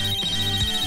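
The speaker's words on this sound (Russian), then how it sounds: "Телефон. Кто-то списывает." A phone ringtone sounds briefly, a sustained high electronic tone over a low tonal backing, loud and close for under a second.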